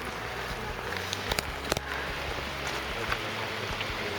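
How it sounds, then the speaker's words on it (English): Steady rain hisses at a misty hilltop viewpoint over Shirakawago, Japan, with a few sharp drips and taps close by. "It'd be really nice if it just stopped raining"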